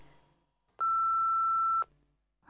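A single answering machine beep sounds after a recorded outgoing greeting, a steady pure electronic tone lasting about one second, loud and close, standing alone in a quiet line before the caller begins.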